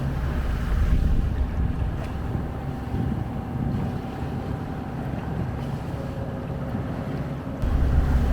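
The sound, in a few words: sailing boat motoring under engine at sea, wind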